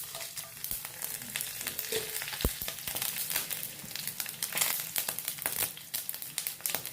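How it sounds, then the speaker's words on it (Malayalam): Mustard seeds and dried red chillies sizzle in hot coconut oil with dense crackling and popping. The steady, close frying hiss carries on throughout and is heard alone. "ആവശ്യത്തിന് കടുക് കൊടുക്കാം കൂടെ തന്നെ വറ്റൽ മുളക് കൂടെ ഇട്ട് കൊടുക്കാം"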